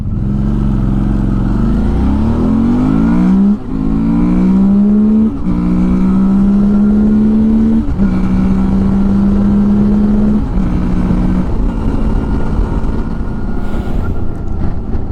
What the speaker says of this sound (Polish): Zrobimy sobie teraz przyspieszenie do setki na szybciocha i zobaczymy jak to nam tutaj idzie.